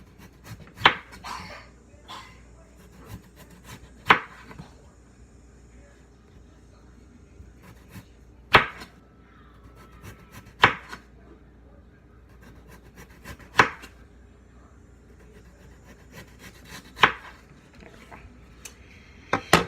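Kitchen knife chopping potatoes on a cutting board for homemade hash browns, a series of sharp, separate chops spaced a second or more apart over quiet background.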